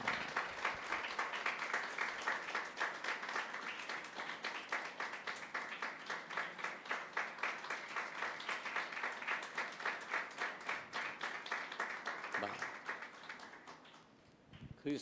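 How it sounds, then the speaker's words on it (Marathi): A church congregation applauds together during a Sunday service, a dense, steady wash of many hands clapping for about twelve seconds before it fades out near the end. "वाजवा टाळ्या."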